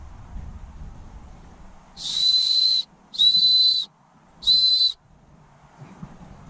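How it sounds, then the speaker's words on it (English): Three short, shrill blasts from a small survival whistle on a fire starter, each about a second long, with brief pauses between, close and loud. "It's not a very good whistle."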